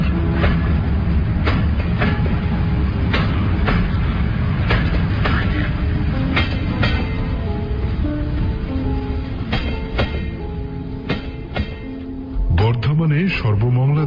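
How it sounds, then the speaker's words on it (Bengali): A Bengali audio drama uses a local train sound effect: a steady rumbling ride with a rhythmic clatter of wheels over rail joints, loud and close, and a rising squeal or horn-like tone near the end. "সেখান থেকে লোকাল ট্রেনে বর্ধমান।"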